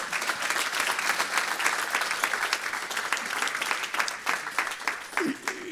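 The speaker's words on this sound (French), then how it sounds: "Est-ce qu'on peut applaudir le Seigneur ?" Church congregation applauding the Lord during a sermon, a dense wash of many hands clapping steadily for several seconds before thinning out near the end.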